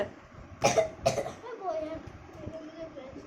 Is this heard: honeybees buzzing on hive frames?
no